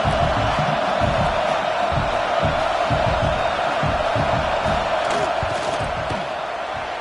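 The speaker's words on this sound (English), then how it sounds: "This crowd trying to do its part to get inside the kicker's head." Football stadium crowd roaring loudly and steadily during a field goal attempt, a dense sustained wall of cheering and yelling that dips slightly near the end.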